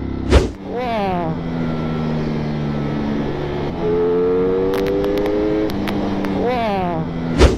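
Ducati Streetfighter V4S motorcycle engine revving up through rising harmonic sweeps, pitch climbing and dropping across several pulls, loud and close, with a rider speaking over it.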